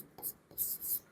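Marker or chalk strokes on a classroom board during a Class 10 maths lesson, a few short scratchy bursts separated by brief pauses, fairly close and quiet.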